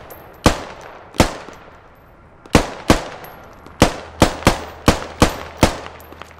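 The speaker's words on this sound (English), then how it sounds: "Is it a machine gun emplacement or something?" In the video game Squad, a machine gun emplacement fires a string of about ten single sharp reports. The shots come at uneven intervals, each cracking loudly and ringing briefly before the next.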